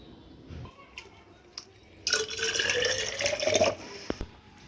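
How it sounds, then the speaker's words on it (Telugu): Water is poured into a bottle, a loud broadband rush lasting about two seconds after quieter background sounds, ending in a few brief drips. "బాటిల్లో నీళ్ళు తీసుకొస్తా."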